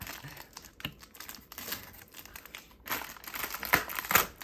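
Plastic parts of a Beyblade Burst customize set being cut from their packaging, a close run of crinkling and snipping clicks that grows busier and louder toward the end, with no talking.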